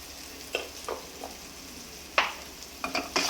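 Garam masala and salt being stirred in a sizzling frying pan: a soft continuous fry under several distinct scraping strokes of a spoon against the pan, with no voices.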